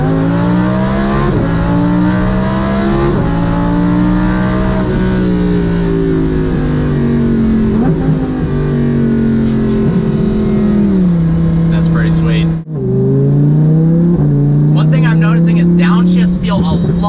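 A tuned Lamborghini engine at full throttle roars loud and close from inside the car, pitch climbing through the revs, with a sharp break at an upshift before climbing again; a voice talks over it.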